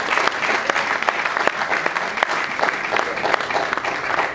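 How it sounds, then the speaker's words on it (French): At a press conference, a group gives Félix Oisegwa a round of applause, loud dense clapping with a few sharper claps standing out over a steady crowd wash. "je vais quand même demander à mes amis d'applaudir pour Félix Oisegwa"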